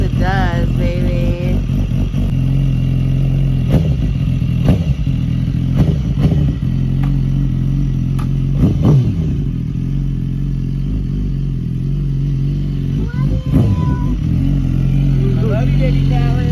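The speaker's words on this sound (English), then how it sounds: "Man, this bike sounds so good." A BMW S1000RR sport motorcycle fitted with a full titanium Arrow exhaust system rumbles and revs close by, its engine note rising and falling over a steady idle, while people talk over it.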